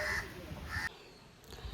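A crow caws twice in a village setting. The two short, rasping calls are faint and a little distant, followed by quiet ambient noise.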